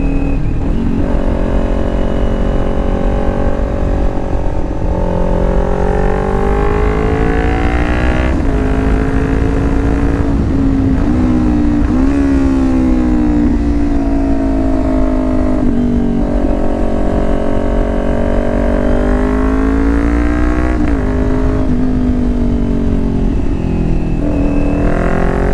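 Motorcycle engine droning loudly and continuously through a twisty stretch of road, its pitch rising and falling as the rider shifts and works through the turns, with steady wind noise underneath.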